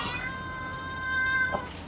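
A stray kitten meows from outside a computer shop, a long, fairly faint drawn-out cry held over a low background hum, followed by a short thump.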